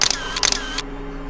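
A camera shutter firing two quick bursts of mechanical clicks in close succession, crisp and near, followed by a quiet tail.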